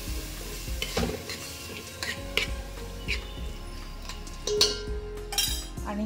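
Marinated mutton for a shahi mutton biryani sizzles steadily in a pan while a utensil stirs it, with clanks and scrapes against the metal over a constant close frying hiss.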